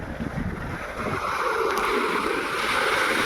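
Steady wind and surf roll against a damaged seawall at high tide, a constant broad rushing roar with gusty buffeting on the microphone and no voices.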